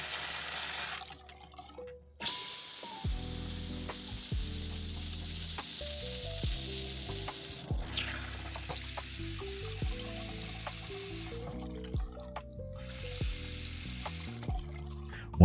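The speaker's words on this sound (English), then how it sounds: "open the cold water and hot water side valves of the sink to test them out and make sure that water is indeed coming" Water runs from the opened cold and hot valves of a sink faucet as a steady hiss and splash, with shifting tones beneath and no talk.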